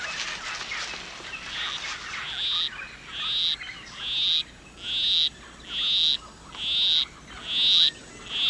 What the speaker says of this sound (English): A male poison arrow frog is courting a female. With his monotonous song, he will try to entice her to follow him